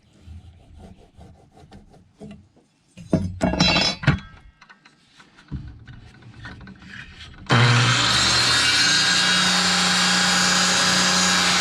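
Circular saw cutting across a composite decking board during a balcony remodel, starting after some clinks and handling noises, then a loud, steady, continuous whine and roar for the last few seconds.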